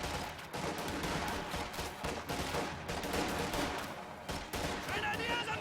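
MG42 machine gun and sniper fire in a WWII strategy video game match, heard as rapid crackling bursts of gunfire mixed with battle noise, fairly faint and continuous, with a voice talking over it.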